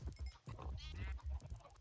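Sheep in the Minecraft video game bleat several times in quick succession, short nasal baas overlapping one another, fairly clear and close in a survival-mode farm pen.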